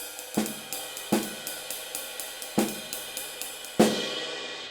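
Steady ride cymbal pattern with a bright shimmering wash, punctuated by regular sharp snare accents about every second and a half, played alone.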